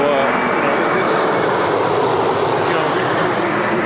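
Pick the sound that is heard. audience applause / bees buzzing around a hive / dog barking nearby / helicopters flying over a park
helicopters flying over a park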